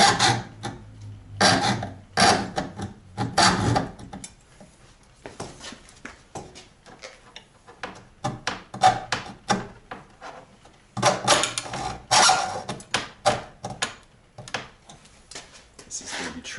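Rough, repeated rasping and scraping bursts of a new brake tube being cut by hand on a Buick Grand National, held without a vise, coming in uneven strokes close by with quieter pauses between.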